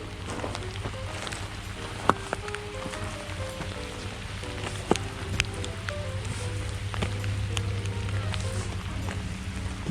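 Rain falls steadily in Wrangell, Alaska, a continuous pattering hiss with scattered sharper drip clicks and some tonal sounds mixed in, heard close on a walk outdoors.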